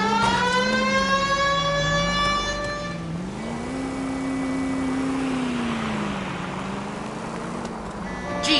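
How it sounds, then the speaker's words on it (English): Police car siren in the video game LA Noire, a loud wailing tone rising and falling steadily over driving noise, continuous throughout with no talking. "The siren off for a reason?"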